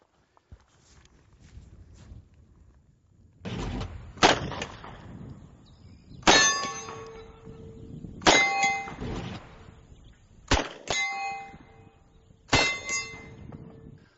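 Uzi submachine gun fired with iron sights at a steel plate at close range, several separate shots a second or more apart, each with a sharp crack and a ringing metallic clang from hits on the plate.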